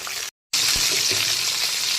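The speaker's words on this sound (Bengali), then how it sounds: "এখন আঁচটাকে ফুল ফ্লেমে করে দিয়ে মাছগুলোকে খুব সুন্দর করে ভেজে নেব।" Pomfret fish fry over a full flame in a loud, steady close sizzle with a few soft low knocks, broken by a brief drop to silence near the start.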